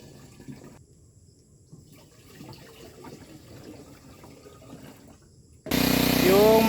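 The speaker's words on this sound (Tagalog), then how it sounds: "Lagyan ko na to ng tubig pero kulang pa to mga bay" Water pours into a 16-liter sprayer tank, a low trickling and splashing at first, then a loud rushing gush near the end.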